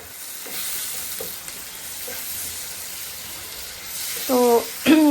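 Ginger-garlic paste with cumin, coriander, turmeric, chili powder and salt fries in a pan with a steady sizzling hiss that runs throughout. A voice speaks briefly near the end.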